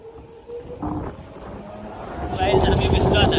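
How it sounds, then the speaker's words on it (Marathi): A vehicle engine runs nearby during a rainy test drive, a low rumble that swells partway through and grows louder toward the end, with wind buffeting the microphone and voices speaking over it. "गाडीचा आवाज बघा किती"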